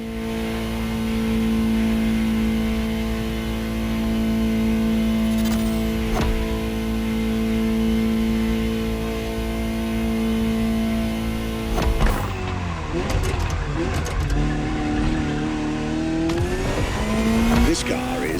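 A Ferrari 288 GTO from The Crew Motorfest racing game drives with a steady engine drone that holds and shifts pitch, then changes as the car accelerates hard, under a voice talking.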